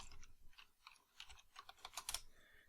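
Password being typed on a Mac computer keyboard: a quick run of soft, close key clicks, irregular at first and then speeding into a dense burst of taps, quiet and without talk.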